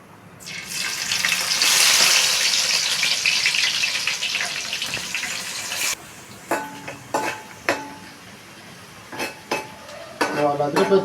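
A loud, bright sizzle of onions dropped into hot oil, fading after a few seconds into quieter frying with clanks of a utensil against the pan.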